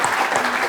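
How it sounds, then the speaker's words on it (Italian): An audience at a cultural gathering in an art space claps in a brief, dense burst of applause, steady and close throughout. "io vi chiedo di autofarvi un applauso"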